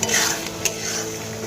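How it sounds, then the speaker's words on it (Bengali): Spices for a Bengali katla fish kalia are stirred and sautéed in oil in a pan, giving a close, steady sizzle with a soft scrape of the spoon partway through and no talking. "এবার আমি খুব ভালো করে মশলাগুলোকে কষিয়ে নেব"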